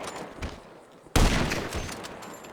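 A sniper rifle fired in the GTA video game by the character Trevor: one sudden loud shot with a sharp broadband crack and a lingering rumbling tail, heard alone.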